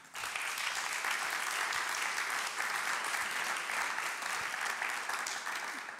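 A conference hall audience applauds at the close of a session on public and private electric mobility, a steady wash of many clapping hands that stays even throughout, heard from a little distance.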